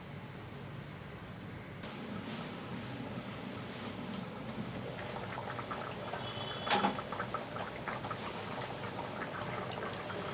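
A covered pot of khichuri with parboiled rice and vegetables comes to a boil on the stove, a faint steady bubbling hiss with a few louder clinks and pops partway through.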